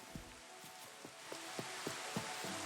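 Steady rain falls at night in the video game Platinum Demo, a faint, even hiss with soft, regularly spaced thuds beneath it.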